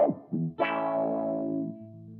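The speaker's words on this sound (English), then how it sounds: "This is band pass in up mode. I'm playing with the frequency here." Guitar through a band-pass filter effect in up mode with the frequency swept, several plucked notes whose tone swoops and wahs upward, sustaining and fading, close and alone.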